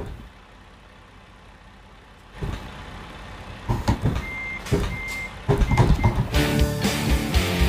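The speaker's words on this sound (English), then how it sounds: "Reversing." In Euro Truck Simulator 2, a truck's reversing alarm beeps at a steady pace over a rising engine rumble, growing louder and busier toward the end.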